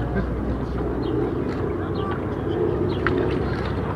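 A Douglas DC-3 Dakota twin-engine piston airliner flying at an air show, giving a steady, full, low engine drone that stays constant throughout, with a voice talking over it.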